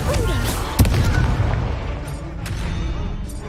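A Confringo fire spell blast in Hogwarts Legacy, a dense booming roar with a sharp crack near the start, sustained loud and rumbling throughout with faint bright sparks later.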